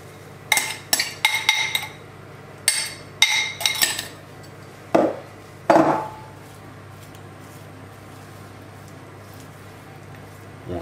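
Sugared blackcurrants spread over a fromage blanc tart with metal utensils: a series of clinks and scrapes of spoon against bowl and dish, in short clustered bursts separated by quiet pauses.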